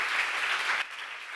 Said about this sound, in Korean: 박수해서 감사하면서 가면 돼.